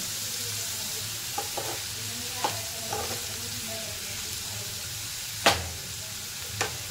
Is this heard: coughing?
no